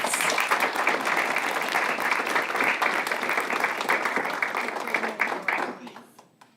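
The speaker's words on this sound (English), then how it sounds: "let's give them a round of applause while I hand out their certificates" An audience at a Kingsport Board of Mayor and Aldermen meeting applauds during a certificate presentation; dense clapping holds steady, then thins and fades out near the end, with faint voices underneath.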